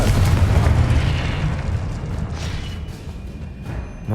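In Hogwarts Legacy, a Confringo fire spell blasts with a loud, booming burst, then a rumbling tail slowly fades over a few seconds.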